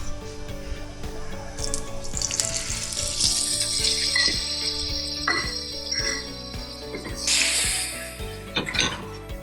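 Butter sizzles and fries steadily in a warm oiled pan, with a continuous crackling hiss. Small clinks of the pan and a brief brighter burst of spatter come near the end.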